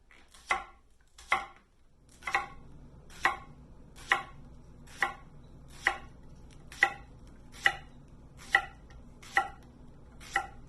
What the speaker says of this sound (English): You can also slice the leek in half if you don't want to have the full rounds